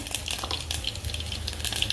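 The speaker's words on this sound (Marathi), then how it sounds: "टोपामध्ये राई जिरे टाकले आहेत. आपण ते चांगले तडतड होऊन द्यायचे आहेत." Mustard and cumin seeds crackle and sizzle in hot oil for a tempering, a steady close frying hiss with scattered pops running throughout, no voices.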